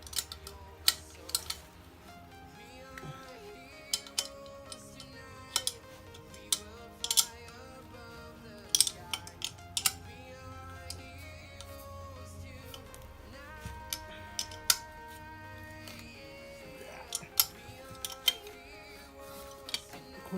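A wrench tightens turbo manifold bolts on a KA24DE engine, giving sparse sharp metallic clicks and ticks at an uneven pace over quiet background noise in a garage.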